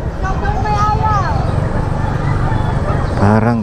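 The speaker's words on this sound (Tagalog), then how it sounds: "Daming mga manok dito" Chickens cluck and squawk nearby amid outdoor background noise and a passing vehicle rumble, with a loud burst of clucking near the end.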